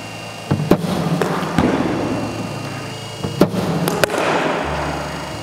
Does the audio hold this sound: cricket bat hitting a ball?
yes